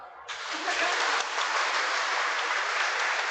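Wedding guests at a Mass wedding break into sustained, dense applause that starts abruptly and holds steady and loud throughout, with a faint voice underneath.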